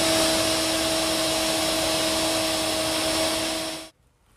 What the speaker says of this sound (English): same router bit, to make a dado for this vertical panel in the knee hole